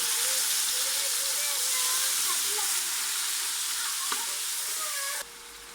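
Masala with tomatoes sizzles and fries in a pot, for potato rice, a steady loud broadband hiss running nearly unbroken and close throughout, dropping slightly at the very end, with no talk.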